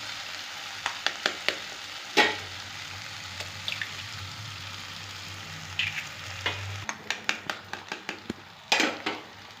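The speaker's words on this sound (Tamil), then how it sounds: "இப்போ வந்து நம்ம முட்டையை உடச்சி ஊற்றிக்கிடுவோம்" Eggs cracked one after another and poured into a sizzling mashed-tomato mixture in a pan: a low steady fry under a series of sharp taps, cracks and pan clatter, close by, with no voices.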